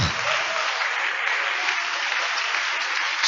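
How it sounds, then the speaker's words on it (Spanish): A church congregation applauds steadily during a sermon, a dense, even wash of many hands clapping close by for the whole stretch with no voices standing out. "Dale un aplauso a ese Dios maravilloso"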